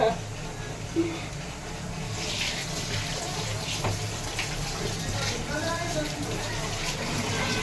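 Washed clothes being rinsed as water runs steadily and gushes from a tap for several seconds, a constant splashing wash with faint handling noises in it.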